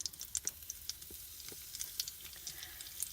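Onions sizzle and crackle in a hot 6-inch mini skillet, a steady faint frying hiss broken by small popping spatters, with no voices.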